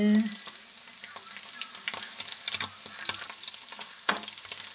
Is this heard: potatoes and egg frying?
yes